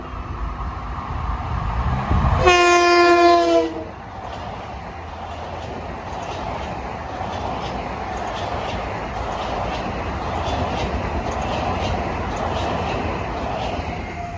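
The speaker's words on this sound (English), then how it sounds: "The gates have gone down for train 1062, a Grand Central to Ronkonkoma train." An LIRR electric commuter train from Grand Central to Ronkonkoma sounds a loud, steady multi-tone horn for about a second and a half, then passes a grade crossing with a sustained rumble and rhythmic clicking of wheels over rail joints.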